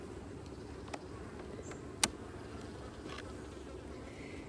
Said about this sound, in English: there's way more control in a top bar hive as far as how many bees are coming up and taking a look at you